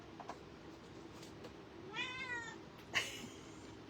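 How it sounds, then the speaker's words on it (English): A cat complaining indoors at night, two drawn-out meows over a low steady room hum, the second brief and sharp. "cat is down here complaining. She's very vocal tonight, that's for sure."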